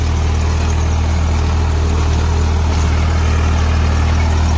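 A Farmtrac 45 tractor runs at about 1750 RPM while driving a rotavator, a loud, steady, unbroken engine drone that stays close throughout with no talking.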